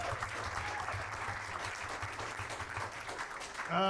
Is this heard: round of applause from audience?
yes